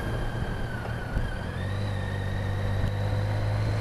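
A BMW K75 motorcycle engine pulls in third gear, a steady low drone with rising harmonic tones as it gathers speed, close and continuous under heavy wind rush.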